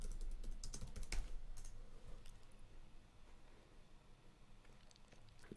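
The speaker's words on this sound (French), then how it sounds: "vous allez taper SiteKit" Quick bursts of typing on a computer keyboard, entering a plugin name in a WordPress dashboard, with clustered clicky keystrokes near the start that thin out into sparser taps, close and fairly quiet, no talking.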